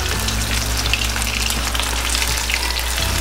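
A whole chicken coated in masala fries in hot oil with a steady, dense sizzle and crackle that holds evenly throughout, close and fairly loud, with no voices.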